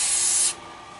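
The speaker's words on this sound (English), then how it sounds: "So I'm just using 7471 primer, which is an aerosol can." A Loctite 7471 primer aerosol can sprays onto a rag in one steady, loud hiss lasting about half a second, then cuts off, leaving quiet room noise.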